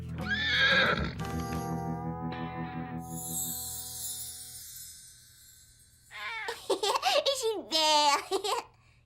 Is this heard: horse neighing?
yes